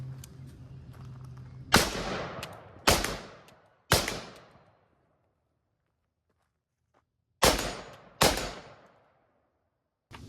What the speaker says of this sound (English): Gonna put a couple rounds on steel, see how we do.